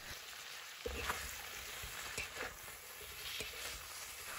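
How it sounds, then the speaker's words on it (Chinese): Cauliflower with green and red peppers stir-fries in a wok over high heat, a steady close sizzle with scattered scrapes and clinks of the spatula as the vegetables are tossed. "花菜也放进来，大火煸炒1分钟。"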